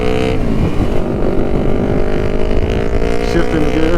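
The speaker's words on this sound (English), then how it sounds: "we are testing out my buddy Riley Moto's Ninja 500R" A 2006 Kawasaki Ninja 500R, freshly ridden on the road for the first time, drones steadily at close range with a buzzy, even engine note and rumbling wind noise throughout.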